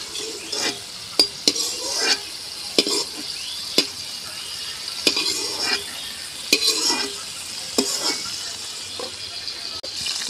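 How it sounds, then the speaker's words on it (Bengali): Chicken being stir-fried in oil in a pan, a continuous hissing sizzle broken by repeated scraping strokes and metallic clinks of a spatula, close and fairly loud. "এর মধ্যে তেল রয়েছে, এই তেলের মধ্যেই আমি চিকেনটাকে কষিয়ে নেব।"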